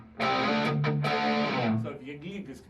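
A Gretsch Tennessee Rose electric guitar rings out distorted with heavy gain and a reverb tail, chords sustaining and then decaying into lighter picked notes.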